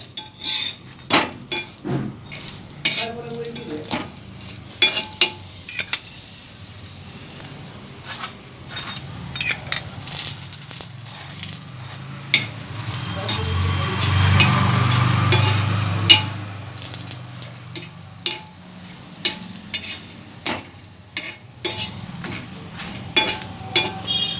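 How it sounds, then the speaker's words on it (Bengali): Mobile ruti flatbread frying in white oil, a soft bubbling sizzle with scattered clicks and scrapes of a utensil against the pan, swelling briefly midway. "সাদা তেল দিয়ে ভাজছি"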